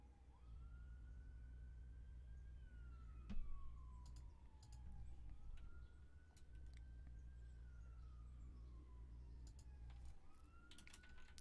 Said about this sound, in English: that's probably an ambulance in the background